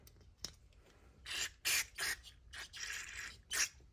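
Short hissing bursts of aerosol cleaner sprayed into the holes of a 2006 Honda Ruckus scooter carburetor, several quick blasts in an irregular rhythm, close and fairly loud with brief pauses between them.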